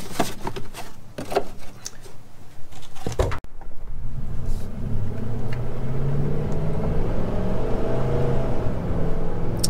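Dodge Dakota engine pulling hard on a test drive after a 4-speed to 5-speed transmission conversion, a loud, steady rising rumble and whir with a brief dip near the shift, heard from inside the cab with no talk.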